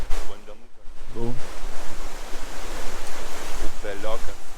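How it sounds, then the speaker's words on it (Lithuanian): A small mountain stream near Zakopane rushes steadily and loudly close by, with brief bursts of people talking over the flowing water. "Upeliokas."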